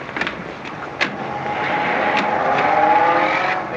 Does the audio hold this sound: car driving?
yes